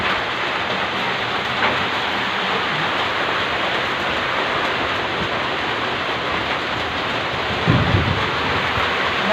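Heavy rain pours steadily on a farm with strong wind and hail, a continuous dense roar broken near the end by a low, close rumble of thunder.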